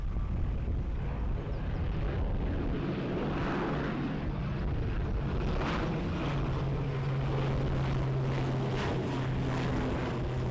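Finnair airliner on final approach at Edinburgh Airport, a steady broad roar of engine and wind noise that holds throughout, with a low droning tone emerging in the second half.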